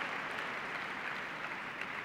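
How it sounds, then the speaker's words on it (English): Audience applause at a high school science competition awards ceremony, a dense, steady wash of clapping with no gaps, from a crowd honoring the Mira Loma High School team. "Nice round of applause, Mira Loma High School."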